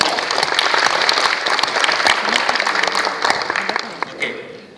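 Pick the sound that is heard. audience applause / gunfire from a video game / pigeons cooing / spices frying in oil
audience applause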